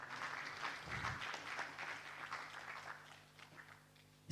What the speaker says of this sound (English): Let's give him a round of applause as he joins us.